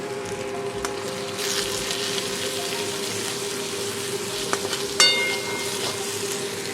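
Potatoes cook in a pan with salt, turmeric, coriander and cumin powder, giving a steady, moderate sizzle with a few clinks of a spoon stirring against the pan, near and even in level.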